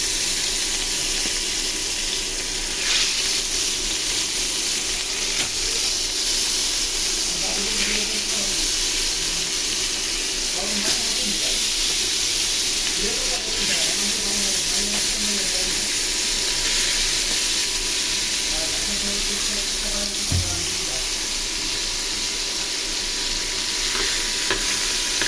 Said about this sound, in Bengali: তো মাছটা তো দিয়ে দিলাম, ভাজা হোক।